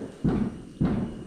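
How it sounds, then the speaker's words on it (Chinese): Firecrackers go off at midnight on Chinese New Year's Eve, heard here as two dull, heavy bangs about half a second apart, each followed by a short rumbling tail. "一下鞭炮声就特别大了"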